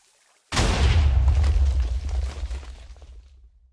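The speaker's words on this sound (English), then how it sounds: "you can construct an entire TNT cannon and shoot TNT further across the world border" A Minecraft TNT cannon sets off TNT, which explodes in one sudden loud blast after a moment of near silence. A deep rumbling roar follows and fades out over the next few seconds.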